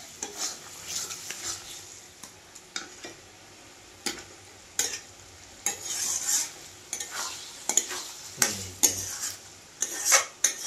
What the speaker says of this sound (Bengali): এইরকম ভাবে আমি ভালোভাবে ভাজবো